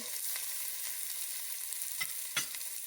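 Onion and corn sauté in a pan for poha with a steady, moderate sizzle, broken by two sharp spoon-scrapes near the end.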